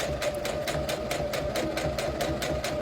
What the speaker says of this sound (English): So I'm going to use a straight stitch and just sew all along the edges with my sewing machine.